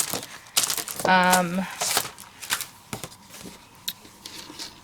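Copper craft paper is crinkled and cut close by, giving short rustles, snips and papery crackles in an uneven rhythm, with a brief voice partway through.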